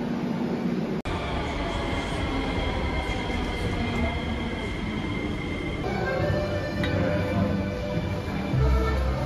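A Sofia, Bulgaria metro train rumbles and rattles along the tracks, a continuous loud ride with a sharp click early on and a faint high whine later.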